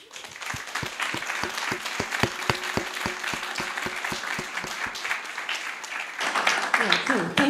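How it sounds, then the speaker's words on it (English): Audience at a panel discussion on wind farms and local communities applauds the panel, steady clapping with a regular rhythmic clap standing out near the front, swelling slightly as it nears its end. "Let's have a round of applause for them."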